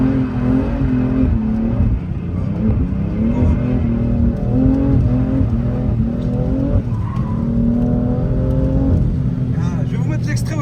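A BMW G80 M3 drifting, its engine revving hard with rising and falling harmonic sweeps as the throttle is worked through the slide, loud and continuous, with tire noise beneath and a voice talking over it.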